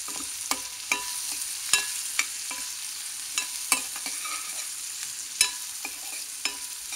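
Shredded cabbage and carrots fry in a pan with a continuous close sizzle, broken by sharp clicks and scrapes of a spatula at irregular moments. No one speaks.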